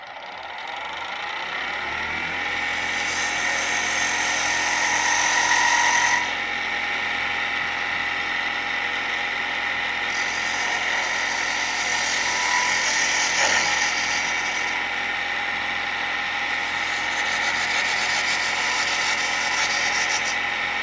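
A wood lathe spins steadily while a scraper cuts beads and coves into the turning stock, giving a continuous, close whirring drone with rasping cutting noise that rises and eases in several long passes.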